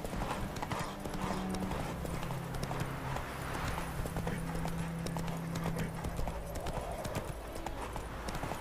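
Rapid hoofbeats of a horse in the video game The Witcher 3: Wild Hunt clatter in a steady galloping rhythm, with a brief whinny, over a dense background of ambient noise.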